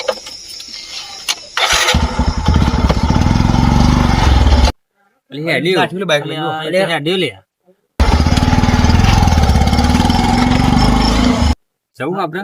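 A motorcycle engine roars loudly in bursts, with short gaps of quiet between them and a voice breaking in partway through.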